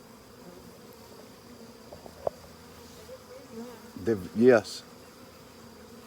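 Honeybees hum faintly around a strong, crowded hive, then one or two buzz loudly past up close for a moment; a person briefly says a word.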